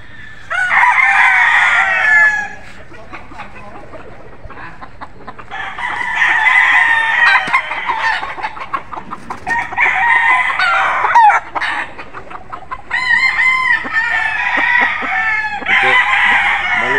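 Golden Boy sweater gamefowl roosters crow loudly and close by, about five long crows in a row with short gaps, and a few clucks in between.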